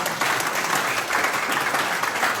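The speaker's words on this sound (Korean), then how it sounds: "박수 보내주십시오" An audience at a lawmaker's hometown report meeting claps in a dense, even burst that holds steady for a couple of seconds, filling the room without any voices on top.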